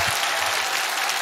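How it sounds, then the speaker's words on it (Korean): A church audience applauds the pastor, a dense, loud, steady wash of clapping heard alone for a short stretch. "오늘 존경과 공경의 마음으로 여러분과 함께 목사님께 박수를 한번 크게 보내겠습니다."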